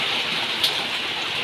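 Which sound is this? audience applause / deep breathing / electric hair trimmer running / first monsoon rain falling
first monsoon rain falling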